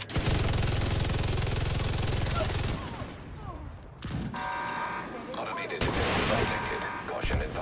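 Mortar fire in an online multiplayer shooter, loud dense booms and rumbling blasts filling the scene, with sharper crackling impacts and a metallic whine later, heard alongside player voice chat.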